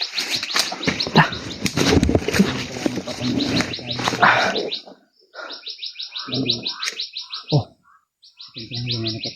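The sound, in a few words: birds chirping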